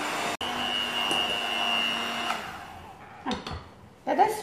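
A hand blender works flour into creamy castagnole batter, a steady close motor whine over the first two seconds before it stops, leaving softer kitchen handling sounds and brief voice traces.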